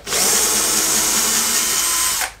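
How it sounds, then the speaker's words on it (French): A power drill whines steadily as it drives screws into wood while building a motorcycle kickstand widener, one continuous loud run of about two seconds that cuts off sharply. "Et puis après on colle, on visse."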